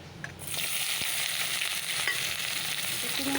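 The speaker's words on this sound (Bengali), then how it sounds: "চলো এবার পেঁয়াজ টমেটোটাকে ছেড়ে দিই" Onion and tomato sizzle steadily in hot oil in a wok, a loud, continuous frying hiss with faint stirring clinks and no talk.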